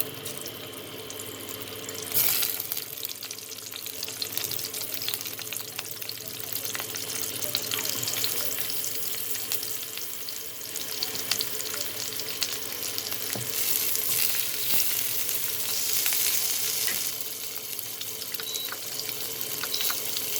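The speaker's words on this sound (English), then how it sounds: "oil is hot, so I am going to drop the okras little bit to this oil." Stuffed okra (bhindi) frying in hot oil over a medium flame, giving a steady, fairly loud sizzle that runs continuously with small crackles and scrapes throughout, with no talking.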